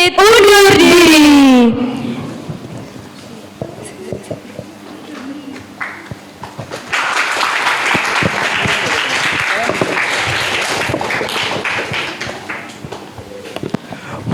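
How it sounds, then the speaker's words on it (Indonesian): Lively crowd applause at a school podcast event at MAN 2 Kota Kediri, swelling after a short loud tone and quieter stretch, then a dense, sustained clapping that continues to the end. "tepuk tangan yang meriah"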